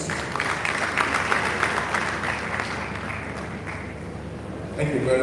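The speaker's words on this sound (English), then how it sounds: "I have a 1 round of applause for you" An audience at the 2022 MCPD session in Ibadan, Oyo State, gives a round of applause, steady massed clapping that fills the room, with a voice speaking over it near the end.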